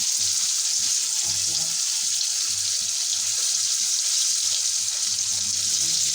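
Flour-coated chicken pieces frying in hot oil, a continuous bright sizzle and crackle that holds steady throughout, with faint low clinks in the background.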